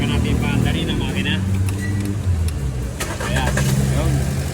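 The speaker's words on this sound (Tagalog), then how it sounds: "Saka natin paandarin ang makina." A Toyota Hilux pickup's engine starts and settles into a steady running rumble during air-conditioning repair work, loud and close, while someone talks over it.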